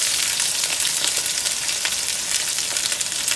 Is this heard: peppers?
yes